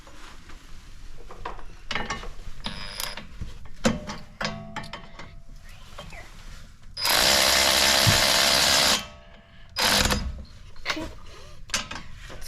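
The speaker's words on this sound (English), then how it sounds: "So now we're going to be putting on the caliper mounting bracket with the bolts with a 17mm socket on an electric ratchet." An electric ratchet with a 17mm socket runs in one loud, steady two-second burst as it drives caliper mounting bracket bolts on a 2015 Toyota Highlander front brake, amid scattered clinks and handling noises.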